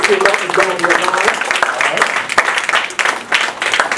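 Audience applause at a lecture honoring Marcus Garvey, a dense, steady wash of clapping lasting about four seconds, with a voice speaking over it.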